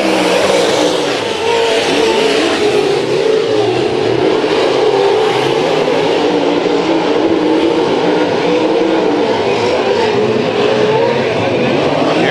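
Modified race cars battle on opening night at Bakersfield Speedway, a loud continuous engine drone with rising and falling revs from the pack, overlaid by a commentator's voice talking throughout.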